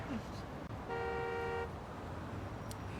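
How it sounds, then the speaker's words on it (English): A car horn honking in the video game Lost Judgment, one steady toot lasting under a second over a constant background rumble, with a brief thump before it. "they hit you and then they honk at you"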